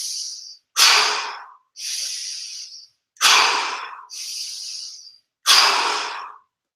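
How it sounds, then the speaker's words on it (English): Slow stomach breathing in a qigong class: a close, steady series of six loud, airy breaths alternating inhale and exhale, each separated by a short silence. "This is stomach breathing."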